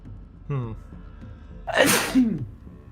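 A single loud, close sneeze bursts out after a brief voiced sound, with a soft breathy tail.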